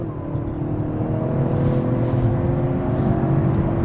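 A 2017 Lincoln MKZ 2.0T EcoBoost sedan pulls away from a rolling start around 15 mph, its engine droning steadily with a rising whir, heard from inside the cabin at moderate loudness without talk.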